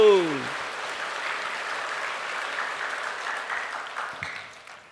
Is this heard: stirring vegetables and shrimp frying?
no